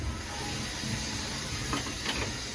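Steady hissing of air escaping past the lid of a pressure cooker holding a tempered vegetable dish. The lid is shut tight but leaks and never whistles. The hiss is continuous and fairly loud, with soft clinks and handling noises near the end.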